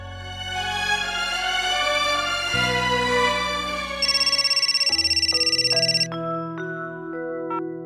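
A phone rings with a melodic electronic ringtone: sustained synthetic tones shift in pitch, a buzzy pulsing tone follows, then short stepped notes, all close and clear with no voices.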